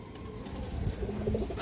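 A male pigeon coos softly in a few low, brief notes toward the end, over a quiet, noisy room background with no talk.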